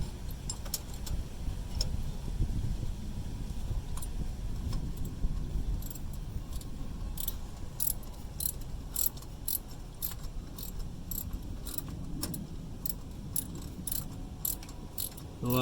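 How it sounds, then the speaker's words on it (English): Ratchet cranking a loosened bolt off a Subaru thermostat housing during a coolant and thermostat replacement, with steady, rapid clicking close by. A low rumble of background noise runs underneath the clicks. "A lot of cranking."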